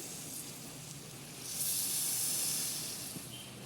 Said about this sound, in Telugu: తాల్పు గిన్నెలో పోసేసుకోవాలి